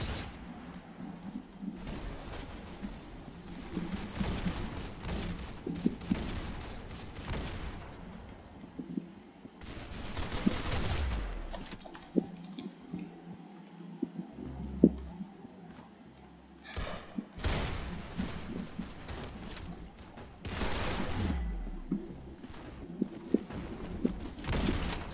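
Gunfire from the Roblox game Arsenal, with scattered sharp shots and bursts mixed with footsteps and game effects, moderately loud over a busy soundtrack.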